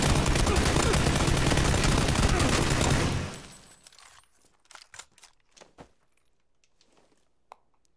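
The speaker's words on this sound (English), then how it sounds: "There's someone else shooting." Gunfire from other players in PUBG: a loud, continuous barrage of automatic fire for about three seconds, then it cuts off into scattered metallic clinks and a few faint, distant shots.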